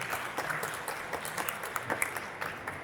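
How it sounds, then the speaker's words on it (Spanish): A crowd applauds steadily for a few seconds, a dense patter of many hands clapping at moderate distance. "démosle un fuerte aplauso"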